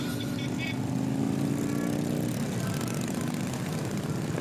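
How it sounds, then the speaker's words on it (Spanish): Motorcycle engines rumble steadily at an Ibagué bike week rally, a continuous loud drone with no clear individual revs, filling the whole stretch. "Escuchemos el sonido de los motores,"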